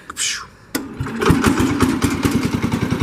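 An old International Harvester Cub Cadet lawn tractor's small engine catches after a brief whir and settles into a steady, fast-chugging run close by, with people talking over it.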